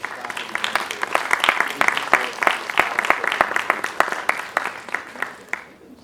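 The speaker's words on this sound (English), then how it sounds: "let's have a round of applause for all of our faculty mentors" An audience at an academic event applauds steadily, many hands clapping at once in a dense, continuous patter that fades slightly at the end.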